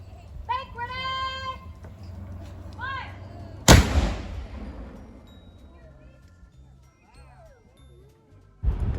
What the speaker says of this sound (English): selected to be on the cannon crew for the practice firing of the cannon